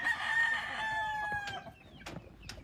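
Dewormed stag roosters on a Philippine breeding farm: one long crow rings out up close, followed by scattered short clucks and calls from the flock.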